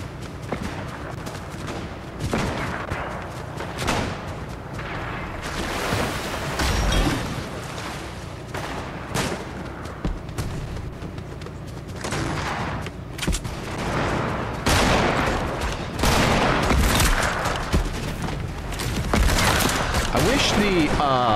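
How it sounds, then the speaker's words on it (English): Submachine gun fire in the video game Fortnite, repeated rapid bursts and scattered shots over a busy battle backdrop, with a voice speaking at times under the gunfire. "Now I've got a submachine gun,"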